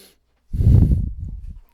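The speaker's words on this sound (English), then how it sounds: "I'm sorry for the heavy breathing" A single heavy, forceful breath rushes out close to the microphone, then trails off into softer panting.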